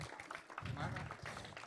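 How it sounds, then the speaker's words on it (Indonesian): An audience at a river rescue seminar applauds a guest speaker with a brief, dense burst of clapping mixed with voices. "ini tepuk tangan dulu yang meriah buat Bapak Tony Dumalang."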